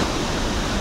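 Roaring rush of the Pailón del Diablo waterfall in Baños, Ecuador, a loud, dense, steady wash of falling water heard up close, with no voices.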